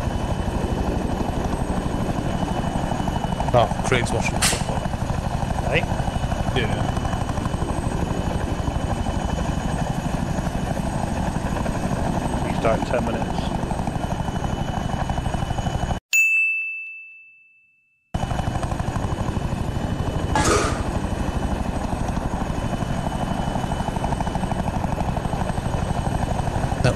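A model helicopter's rotor whines steadily outdoors, with a few metallic dings and a brief cutout partway, while people chat casually nearby.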